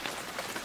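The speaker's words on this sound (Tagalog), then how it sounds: "Halika, patilain muna natin yung ulan." Steady, faint rain falls on a surface as a continuous even hiss with no voices.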